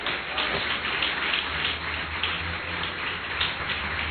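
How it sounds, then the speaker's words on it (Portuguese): Steady congregation applause during a church sermon, dense and continuous clapping heard from within a large room, somewhat muffled. "Vamos aplaudir o Senhor Jesus."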